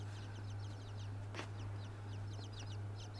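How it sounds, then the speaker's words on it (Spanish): Sparrows chirp in quick repeated bursts over a steady low hum, the chirps fairly faint and scattered with brief pauses. "Son gorriones."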